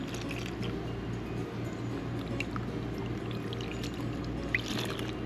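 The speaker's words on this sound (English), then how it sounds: "So you throw your mixture inside here." Yeast mixture poured into a bowl for a Christmas ham and fruit cake bake, a soft, steady wet pour over a constant low kitchen hum, with no talking.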